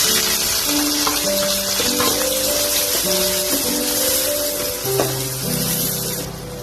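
Chopped medium onions tipped into hot oil with cumin seeds, frying with a steady, close sizzle and crackle throughout, no voices.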